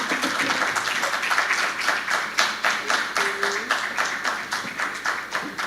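Audience clapping at a conference session, with steady overlapping hand claps that stay fairly loud and even for several seconds. A faint voice sounds briefly partway through.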